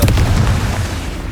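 Confringo fire spell explosion in the video game Hogwarts Legacy, a single loud, close boom with a rumbling decay lasting about a second.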